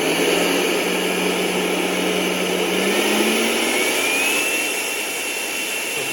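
A HART 20V cordless workshop blower roars steadily close by, a loud whooshing whine whose pitch climbs gradually as the power is increased, running alone without voices.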